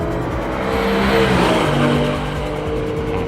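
A 2020 Toyota Supra and a Mustang GT race side by side on a track, engines droning loud and steady with a rising, swelling roar at full throttle.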